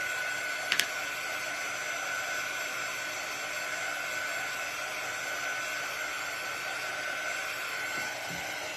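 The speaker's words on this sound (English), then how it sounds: "Let me dry it though, so that I don't smudge it or any silly business like that," A hair dryer runs as a steady, even blowing whir to dry paint on a painted ghost craft. It holds constant from start to finish with a brief click near the start.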